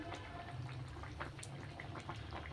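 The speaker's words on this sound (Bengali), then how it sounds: "এবার এটা ফুটে উঠছে, দেখছেন" A milk-based Bengali vegetable curry, shukto, simmering in a pan, a quiet close bubbling with small pops and gurgles over a soft steady wash.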